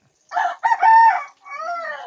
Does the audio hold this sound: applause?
no